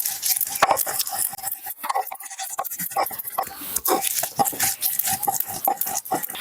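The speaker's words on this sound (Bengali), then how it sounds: "এবার একটা থালা দিয়ে ঢেকে দেবো।" A plate set over a bowl of raw potatoes and onions mixed with salt. Close clinks and scrapes of dishware repeat in quick, sharp knocks throughout.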